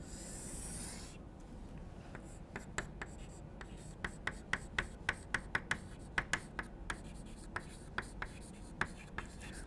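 Chalk or marker strokes tapping and scratching on a board as an equation is written by hand, a steady run of short, clicky marks close by in a quiet room, with no talk over them.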